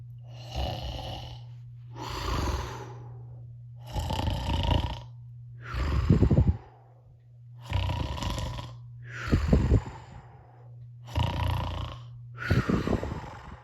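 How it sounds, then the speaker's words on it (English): Cartoon character Patrick Star, asleep, snores loudly in a steady rhythm: about eight long, rasping, close snores separated by short pauses, over a constant low hum. "Patrick was asleep and snoring loudly."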